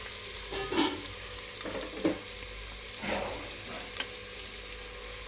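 Onions sizzling in ghee in a pan for chicken biryani, a steady frying hiss with occasional louder crackles and stirring scrapes, close up with no talking.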